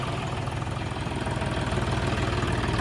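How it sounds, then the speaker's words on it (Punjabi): A new John Deere tractor engine idling nearby, a loud, steady low rumble with a faint rhythmic throb and nothing else over it. "ਹੈਰੀ ਵੈਸੇ ਹਨਾ ਇਹ ਜਿੰਨੇ ਟਰੈਕਟਰ ਖੜੇ ਆ ਸਾਰਾ ਨਾਲ ਵੱਖਰੀ ਬੜਕ ਹੋ ਗਈ ਹੈ"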